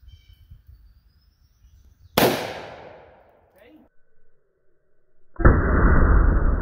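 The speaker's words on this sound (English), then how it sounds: "I'm going to shoot one single action, one double action center mass on a Q target." A single-action shot from a Ruger Alaskan .454/.460 revolver fired at a target: one sharp, loud blast with a fading tail, then quiet, then a second loud burst of noise near the end.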